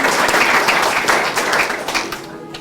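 A crowd gathered at Teddington Station for its 150th anniversary applauds the station staff, producing a dense burst of clapping that holds steady and then thins out toward the end.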